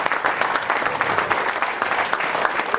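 A seated audience at a medical research presentation from Annamalai Medical College gives a big round of applause for a doctor, dense, steady clapping that carries on loudly and evenly throughout.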